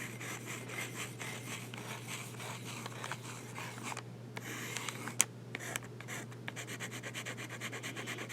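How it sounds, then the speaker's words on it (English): A Chinese glass pen nib scratches across paper in a faint, continuous rubbing stroke, with short pauses where the nib lifts, close up and without talk. "That glass nib feels really nice to paper."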